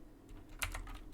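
Fingers tap a computer keyboard, a quick run of soft clicks at close range.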